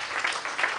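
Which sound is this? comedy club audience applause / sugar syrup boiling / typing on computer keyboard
comedy club audience applause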